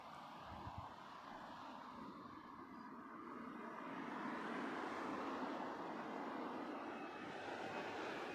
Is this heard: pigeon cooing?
no